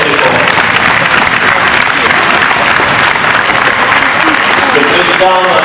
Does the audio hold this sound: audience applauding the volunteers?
yes